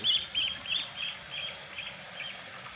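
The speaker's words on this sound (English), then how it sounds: "So many ducks." Ducks on a lake at a riverside leisure park in Northumberland, on a cold winter day, quack in a quick repeated series of calls, close and fairly clear, with no talk.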